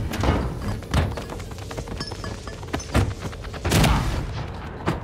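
A thrown bomb going off in the video game Party Animals, several heavy thumps and booms spaced out over a few seconds amid scattered clatter and game noise, each blast punchy and close.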